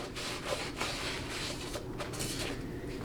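A rag wipes the inside diameter of the bushing bore in a 4L60E/700R4/TH350 2WD transmission extension housing on a bench, giving short, close rubbing and scuffing strokes with no talk.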